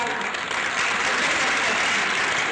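An audience at an award show bursts into applause, a dense, steady wash of clapping that stays loud and continuous for a few seconds.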